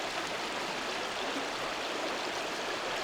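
Catherine Creek flows past, its bank washed out and the water deep, giving a steady, broad rushing hiss that stays constant and fairly close, with no voices.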